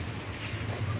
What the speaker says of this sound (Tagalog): Umuulan kasi guys. Napaka-bad weather naman.